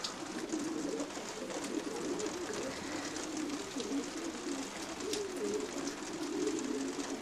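Racing pigeons coo in a loft, from a champion Polish breeding team's birds including a black pigeon, with low steady cooing running throughout over a constant background hum.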